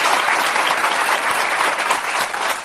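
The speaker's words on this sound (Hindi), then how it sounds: "तो एक बार अपने लिए ताली जरूर बजाइए।" An audience of girls applauds loudly and continuously, many hands clapping in a dense, sustained burst that tapers slightly near the end.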